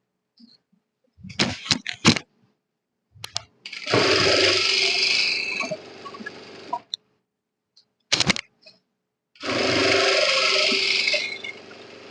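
An electric sewing machine stitches a seam on a ready-to-wear saree in two long, steady whirring runs. Short clicking and handling sounds come before each run, with brief silences between.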